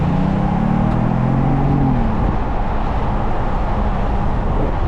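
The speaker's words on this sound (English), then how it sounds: "We'll go for a little acceleration." A Ford Bronco 4-door with the roof off, driven on a Canadian road, its engine note climbing under acceleration and then sinking into a loud, steady rush of wind and road noise.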